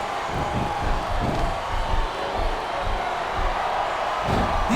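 Arena crowd in the wrestling video game SmackDown vs Raw 2007 cheering as a steady, moderately loud roar with rising swells and no commentary over it.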